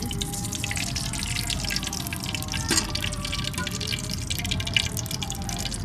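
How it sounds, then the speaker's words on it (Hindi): Ghee poured into a pan for sooji halwa, a steady close trickle of liquid with small dripping splashes throughout. "सबसे पहले हम इसमें डालेंगे घी।"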